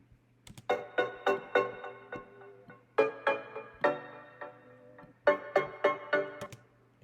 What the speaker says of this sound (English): Vital. I use this preset called Chorus Keys. Just playing this.